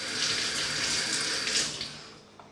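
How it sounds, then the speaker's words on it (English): Cold tap water runs steadily into a kitchen sink while a knife is rinsed of onion juice, a close, even hiss and splash that fades slightly toward the end. "just rinse the knife under cold water"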